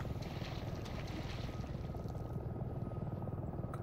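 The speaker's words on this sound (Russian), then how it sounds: "Вертолеты." Helicopters in a video game thrum as a steady, dense rotor drone, continuous and unbroken for a few seconds with no speech.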